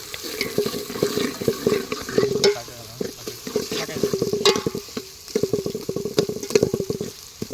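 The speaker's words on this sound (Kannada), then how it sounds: "ಇದು ಬೆಳ್ಳುಳ್ಳಿ ಚೆನ್ನಾಗಿ ಬೇಯಿಸಬೇಕು ಸರ್ ಇದನ್ನ" Garlic sizzles in hot oil outdoors while a utensil scrapes and stirs the pan repeatedly, steady crackling throughout with rhythmic clanks.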